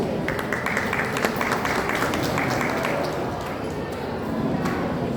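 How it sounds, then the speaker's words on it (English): An audience at a Teachers' Day celebration applauds steadily for several seconds, a dense patter of clapping with some crowd voices mixed in. "Let's welcome him with a big round of applause."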